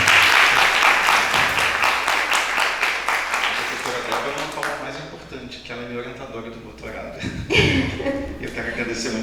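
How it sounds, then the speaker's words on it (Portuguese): An audience bursts into loud clapping that thins out over several seconds, with some chuckles and a voice speaking over the fading applause. "vou pedir uma salva de palmas para o Thiago."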